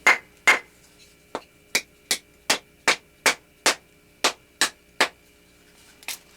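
A small ball peen hammer taps about a dozen times in sharp, evenly spaced strikes, close up and clear in a quiet room, with one fainter knock at the end.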